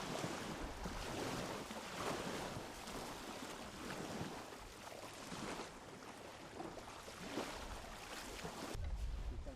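Otter unmanned surface vehicle running on open water, with a steady broadband wash of waves and wind buffeting the microphone throughout, loud and continuous with no voices.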